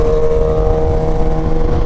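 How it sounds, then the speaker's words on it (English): A Kawasaki H2 with a supercharged 998cc engine, 231 horsepower, passing by, producing a loud, steady high-pitched engine drone with a sustained tonal whine and no clear change in pitch. "That's a supercharged engine, 998cc, 231 horsepower."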